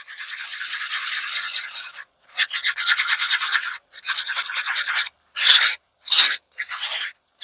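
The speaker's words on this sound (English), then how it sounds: "Scrape the sides down. Get all that color mixed up very well." A tool scrapes the sides of a cup while mixing coloured resin, giving close rasping strokes: three long scraping runs followed by several short sharp scrapes, with brief pauses between them.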